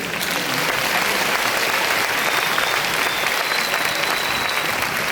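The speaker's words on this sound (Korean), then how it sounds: "다시 한번 박수 부탁드리겠습니다" Steady, loud applause fills the room as a youth camp audience in Busan claps together after a worship prayer, sustained and dense without any break.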